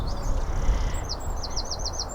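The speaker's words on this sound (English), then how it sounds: "There's quite a lot of birds around there." Small birds chirp and call around a springtime allotment, a series of short repeated high tweets in the second half over steady outdoor background noise, with no talking.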